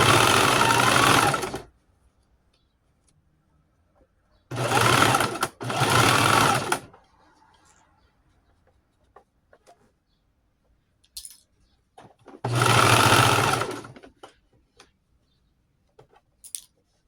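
An electric sewing machine stitching denim for an upcycled jeans crossbody bag runs in four loud, close bursts of rapid stitching, separated by quiet pauses with faint handling clicks.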